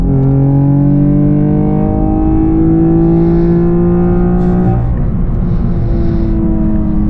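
A Camaro V6 1LE engine pulls hard in third gear, loud and close from inside the car. The rising harmonic whine climbs steadily, then drops at an upshift near five seconds and resumes its climb.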